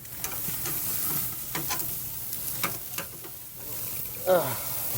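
Food sizzles on a hot Kamado Joe Big Joe ceramic grill at about 700 degrees, a soft steady crackle with occasional scraping and a brief sharper hiss near the end, no talking.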